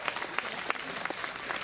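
Scattered audience clapping at a closing concert in Abbotsbury, 2022, with a steady wash of hands and a few sharper individual claps standing out near the listener.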